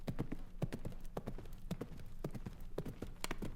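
Horse hooves clip-clop in a steady, quick rhythm as a sound effect in an original radio play, close and clear with no talk.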